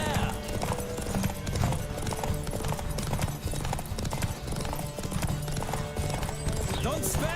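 Rapid clip-clop of a horse galloping in The Witcher 3: Wild Hunt, steady and close, mixed with game music and wind, with someone talking over it in bursts.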